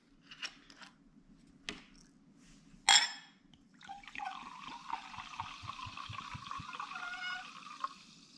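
A bottle of Perrier sparkling water is opened with a sharp crack and hiss, after a few small clicks and taps, then poured into a glass with a steady fizzing, trickling stream lasting several seconds.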